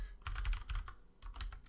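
Someone types on a computer keyboard while building a Unity mobile game UI, producing quick clusters of close, crisp key clicks in two short bursts with a brief pause between them, and no talking.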